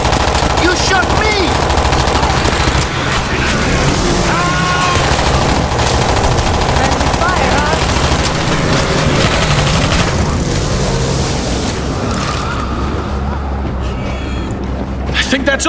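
Sustained automatic gunfire from a World War Z zombie shooter game, with loud rapid bursts and booms running throughout under shouting voices and game effects.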